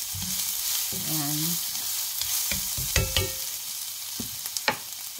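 Carrots frying and being stirred in a pan for salmon spring rolls, a close sizzle broken by scraping spatula strokes and clacks, with a brief spoken word.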